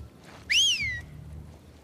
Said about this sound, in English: These guys whistle fucking loud, man!